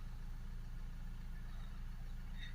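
A Renault Espace 2.0 dCi diesel engine with a blocked particulate filter settles to idle, a steady low rumble throughout, with no talking over it.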